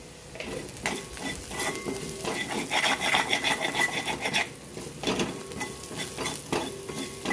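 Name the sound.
cumin, ajwain and fenugreek seeds frying while being stirred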